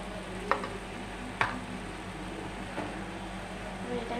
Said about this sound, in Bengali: এর মধ্যে আমি দিচ্ছি জিরে আদা রসুন লঙ্কা বাটা